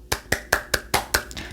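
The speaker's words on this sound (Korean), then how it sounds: "박수 소리 들리시죠?" Six crisp, evenly spaced claps ring out in a quick steady rhythm, close and moderately loud, with nothing else around them.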